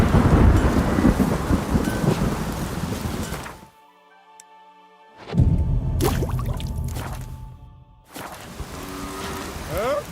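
Steady, heavy rain with deep rolling thunder in The Witcher 3 game world, loud and close, broken by two abrupt near-silent gaps before the downpour resumes.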